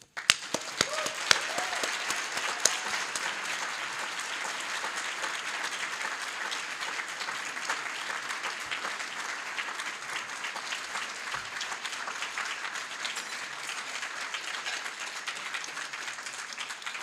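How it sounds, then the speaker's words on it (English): A hall of fame ceremony audience at a broadcasters' induction applauds an inductee, a steady, dense round of clapping filling the room for a long stretch, with a few louder individual claps near the start. "please join me in giving a well-deserved round of applause to inductee"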